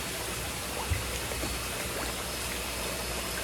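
Tank water mixed with praziquantel is poured and spread over a koi quarantine tank, a soft continuous trickle and splash under a constant broadband hiss, faint and steady.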